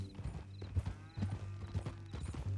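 Horse hooves clip-clop in steady, close rhythm in Red Dead Redemption 2, the hoofbeats repeating clearly across a low ambient bed with no talking.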